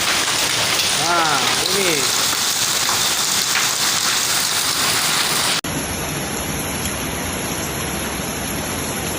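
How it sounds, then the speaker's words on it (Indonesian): Hail pours down steadily during a hailstorm in the Wiyung area of Surabaya, a dense, loud, continuous rattling hiss with someone speaking briefly over it early on. "ini proses hujan es batu di daerah Wiyung"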